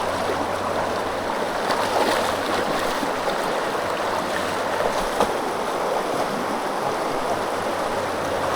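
Strong river current rushing during a river crossing, a continuous broad wash of flowing water, steady and fairly near with no talking.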